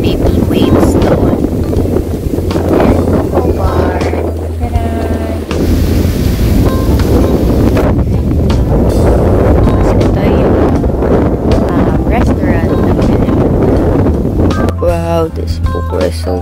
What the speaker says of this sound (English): Sobrang lakas ng hangin. And then the water is rough.